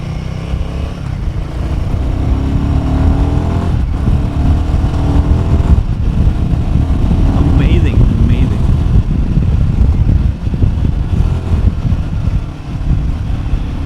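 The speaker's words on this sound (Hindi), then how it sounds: "क्या रेव करता है इंजन" A Royal Enfield Himalayan 450 motorcycle engine rumbles and revs while being ridden, a steady, close throaty drone with wind noise, rising and falling slightly as a rider talks over it.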